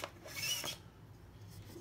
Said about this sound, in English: you just gotta take out the top screw in the back, which is what holds this, what holds the stock onto the buffer tube